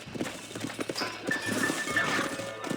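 Horse hooves clip-clop steadily on hard ground in Red Dead Redemption, with a brief whinny and faint ambient game sounds mixed in.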